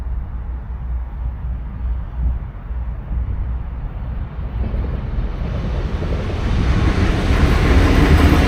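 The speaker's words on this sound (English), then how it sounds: "Here are a couple of trains crossing the bridge, starting with the southbound Islands of the Bahamas Rapt train." A southbound Brightline passenger train crosses a bridge, its broadband rumble rising steadily and growing louder as it approaches over about eight seconds, with wind buffeting the microphone and no voices.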